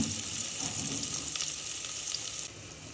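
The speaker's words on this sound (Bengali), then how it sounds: "তেল গরম হয়েছে, দিয়ে দিব পেঁয়াজ কুচি" Chopped onions hit hot oil in a village-style Bengali kitchen, a steady, fairly quiet sizzle of frying that fills the whole stretch with no talk.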